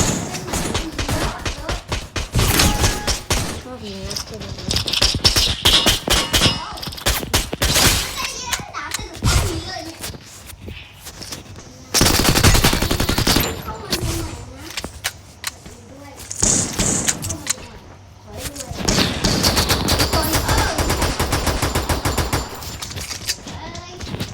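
Video game gunfire from a small gun comes in repeated rapid bursts of loud, sharp automatic shots with brief pauses between volleys, while a young-sounding voice talks over it at times.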